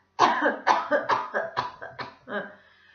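A rapid series of about seven harsh coughs in quick succession, close and loud, trailing off into a final weaker cough.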